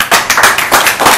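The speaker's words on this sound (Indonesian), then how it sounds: "Aplaus." Applause from the audience at an Islamic dakwah gathering, a run of broad clapping bursts that rise and fall over about a second, fairly loud and close with no talk over it.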